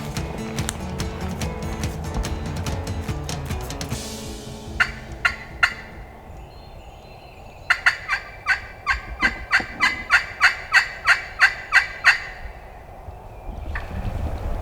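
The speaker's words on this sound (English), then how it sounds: "Hen right down in there yelping" A wild turkey hen yelps in quick, evenly spaced series of sharp calls, a short burst first and then a longer run, fairly close in quiet Mississippi timber.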